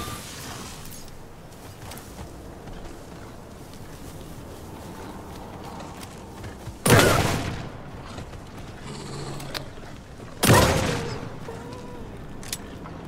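Two loud, booming shotgun blasts fired at wolves in Alan Wake 2, spaced a few seconds apart over a low, rumbling ambient background.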